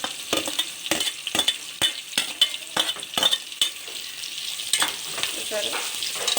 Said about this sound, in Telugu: ఇలా ఆనియన్స్ కూడా కొంచెం ఫ్రై అవ్వాలి.